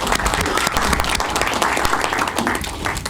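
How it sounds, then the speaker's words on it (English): Short burst of audience applause at a school board meeting, steady, full clapping from a roomful of people, close and fairly loud throughout. "How about a applause?"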